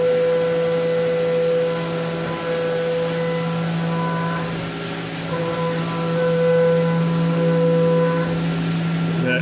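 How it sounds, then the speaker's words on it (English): A CNC machine tool at a machine shop cuts small pockets into metal plates with coolant, giving a loud, steady whirring drone with sustained tonal hum that holds throughout without break. "that tool is cutting out those little pockets you saw on the back of those plates."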